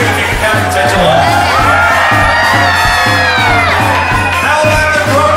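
A large crowd aboard a Royal Caribbean cruise ship screams, whoops and cheers loudly and continuously, with children's shouts mixed in and music playing beneath the roar.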